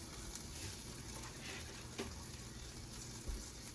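Country Crock margarine sizzles in a frying pan with food already cooking, a low, steady crackle that carries on throughout, with a couple of faint clicks from the pan.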